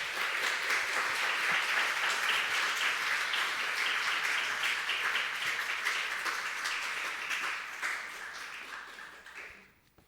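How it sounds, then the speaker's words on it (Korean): A church congregation claps to welcome a missionary to the front, steady dense applause filling the room and then fading out toward the end. "선교사님 나오실 때 큰 박수로 맞이하겠습니다."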